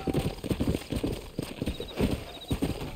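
A horse gallops in the Red Dead Redemption video game, with steady, rapid hoofbeats pounding close and loud throughout, a brief whinny-like tone near the start.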